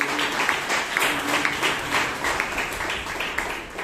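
Audience applause at a Bangalore Toastmasters meeting: a room of people clapping steadily, moderately loud, a continuous patter lasting several seconds with slight swells.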